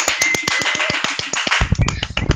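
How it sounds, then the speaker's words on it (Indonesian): Participants at a campus Islamic student group gathering clap in a quick, regular rhythm of crisp nearby claps, which turn looser and noisier toward the end amid background chatter. "Beri tepuk tangan dong buat semuanya"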